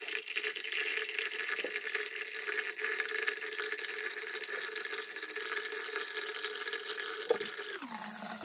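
Tap water runs steadily into a sink, a continuous broad splashing rush that holds level for several seconds before tapering off near the end.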